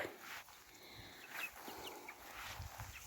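Soft, high cheeping of chicks scattered through the clip, faint and close with light rustling underneath.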